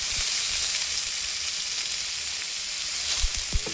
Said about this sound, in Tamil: இப்போ பூண்டு கட்டி வச்சுருக்கேன், அந்த பூண்டையும் நான் சேர்த்துருக்கேன்